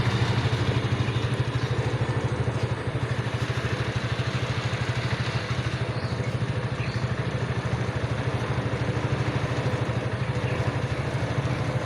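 A large motorcycle engine runs at a steady idle, a continuous, loud low rumble with a slight rattling clatter and no talking over it.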